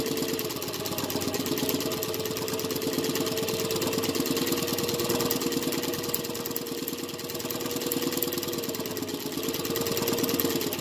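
Mauzer chain stitch embroidery machine running, driven by a servo motor at 1700 speed through a 45 mm pulley: a steady, rapid mechanical whirring and chattering hum, continuous and close, without talk.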